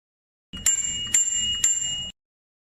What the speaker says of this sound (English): And then installing the bell.